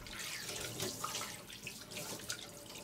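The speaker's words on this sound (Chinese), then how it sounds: "然后把鱼清洗干净。" Tap water runs steadily into a kitchen sink while a freshly gutted carp is rinsed clean for sweet-and-sour fish, a continuous close splashing hiss with small shifts as the fish moves under the stream.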